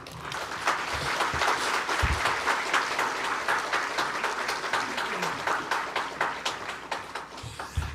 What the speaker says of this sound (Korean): 나오실 때 큰 박수로 환영하도록 하겠습니다